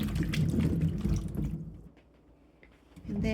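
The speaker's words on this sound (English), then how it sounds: "I'm just going to give them a wash to get any surface dirt off of them" Apples being washed in water to remove surface dirt, with sloshing and splashing up close, easing into quieter drips before the swishing picks up again.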